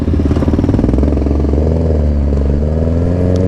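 Motorcycles idle and rumble loudly up close as riders set off on a slow race, engines throbbing steadily with slight revs and no voices.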